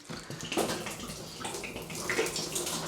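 Old water poured out of a decoration container holding dried flowers, a close splashing gush with gurgling surges that rises and falls for a few seconds.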